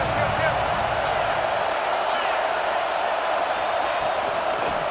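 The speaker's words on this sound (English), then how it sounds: "Decibels rising as the crowd gets behind this defense on third down." Loud, steady stadium crowd roar in EA Sports College Football 26 as fans get behind the defense on third down, a continuous dense wash of noise under a commentator's voice.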